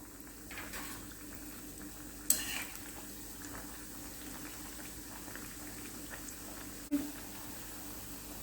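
Alu wadi frying in oil over a high gas flame, a low, steady bubbling sizzle that stays fairly quiet, broken by two brief sharp clinks, one near the start and one toward the end.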